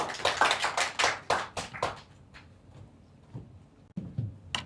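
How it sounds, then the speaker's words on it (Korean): Audience clapping welcoming a lecture speaker at a presentation event, a short run of distinct claps at moderate distance that thins out into a few sparse claps and taps. "여러분 큰 박수 부탁드리겠습니다"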